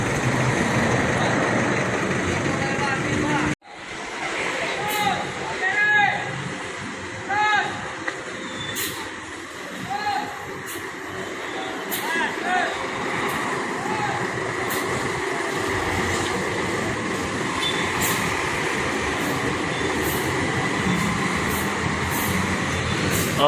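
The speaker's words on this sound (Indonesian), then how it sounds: "Wih, keren busnya nih. Suaranya juga keren ya." A Batu Mukti Putra bus on a 1521 chassis runs with a steady low mechanical rumble and hum, close by, under a continuous wash of background noise, with a sharp knock early on and a few scattered clicks.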